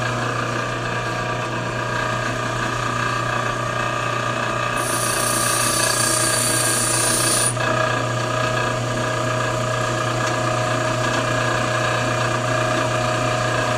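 Bench grinding wheel shaping a lathe tool bit, a steady loud motor whine with a bright burst of grinding hiss for a few seconds in the middle as the bit touches the wheel.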